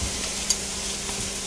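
Sweet yellow and orange peppers sizzle and get stirred in a hot pan, a steady close hiss with a faint scrape partway through.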